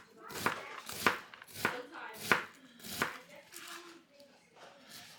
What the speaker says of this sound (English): I'm going to shred the cabbage, the eighths that I cut up